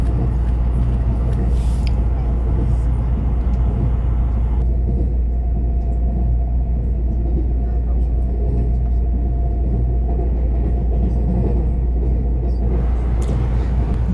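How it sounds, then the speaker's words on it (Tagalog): A blue local train passes in Taiwan, heard from aboard another train travelling between Taipei Main and Ruifang: a loud, continuous low rumble with a brief rushing swell, under the steady roar of the ride. "Ayun, may dumaan ulit na tren."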